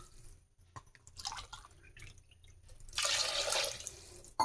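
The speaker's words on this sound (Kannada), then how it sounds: "ಅದಕ್ಕೆ ನಾನು ಈ ಗ್ಲಾಸಿಲ್ಲೇ ನಾನು 2 ಗ್ಲಾಸು ನೀರು ಹಾಕ್ತಾಯಿದ್ದೀನಿ" Water poured from a glass into a pot of rice for homemade donne biryani: faint drips and small splashes lead to a fuller, steady pouring gush near the end, close and unaccompanied by talk.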